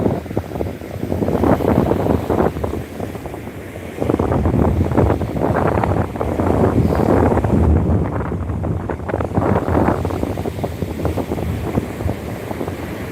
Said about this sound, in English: You're looking at the Channel Islands waves in the open sea